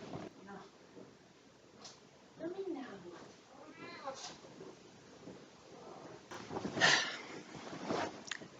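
A pet cat meows a few times indoors, the cries mixed in with a person talking over a quiet room background.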